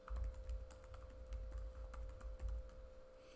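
Fast, quiet clicking of keys on a computer keyboard as a password is typed, a steady run of taps over a faint electrical hum.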